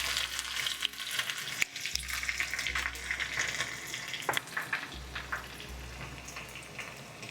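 Green chili pieces crackle in hot peanut oil tempering with mustard seeds for khandvi, a close, busy sizzle with sharp pops and spits, swelling and easing as the pan is handled.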